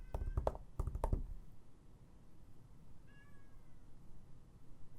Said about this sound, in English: There's a cat meowing at my door.